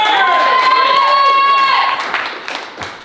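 Audience at a comedy show cheering and applauding for comedian Connor, a loud crowd roar with shouts and claps that fades over about three seconds.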